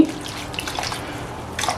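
Water trickles and drips into a clay pot holding brown sugar, a short soft pour in a kitchen, fairly faint and without talking.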